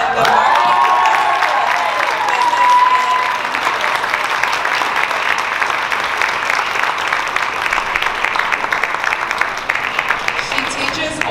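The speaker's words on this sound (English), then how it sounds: "let's have a round of applause" Dinner guests at a Chinese cultural evening at a college applaud with some cheering and a brief whistle at the start, a steady wash of clapping that thins gradually toward the end.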